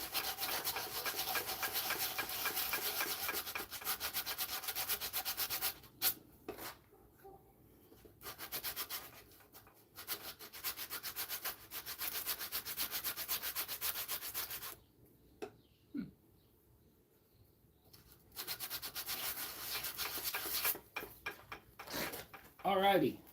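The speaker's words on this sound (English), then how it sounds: "We're going to put our sandpaper down." Close, steady rubbing of a turned pine mallet's bottom scrubbed back and forth on sandpaper, continuous rasping strokes broken by two short pauses.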